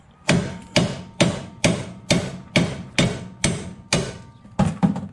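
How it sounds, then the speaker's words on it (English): A 4-pound sledgehammer knocking old wheel lug studs out of a Datsun 521 mini truck hub, nine hard, evenly spaced metallic blows in a steady rhythm, close and loud, with a quick double strike at the end. "Pop them out. I like to use a, it's like a 4-pound sledge."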